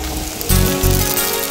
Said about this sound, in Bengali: বৃষ্টিটা বাড়লো মনে হয়।